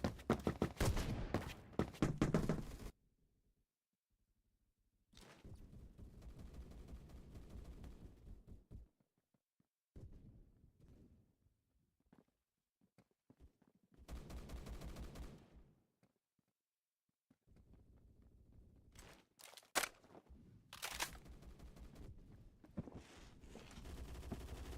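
Rapid gunfire in the Roblox shooter Phantom Forces, several loud automatic bursts broken by short silences, with a dense volley at the start and more sharp bursts later.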